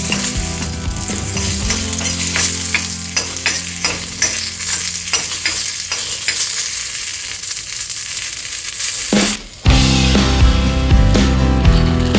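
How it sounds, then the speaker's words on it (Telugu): Green chillies fry and sizzle in a pan for chutney, with steady crackling and repeated stirring scrapes throughout, then a brief dip and a louder burst of sizzling near the end; no one speaks. "పచ్చిమిర్చి కూడా వేగిపోయినాయి"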